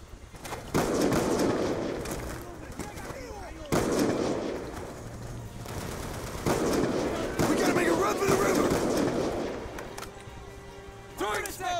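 Gunfire in a Call of Duty campaign battle: repeated loud bursts and sharp shots across the whole stretch, with shouted voices over the fighting.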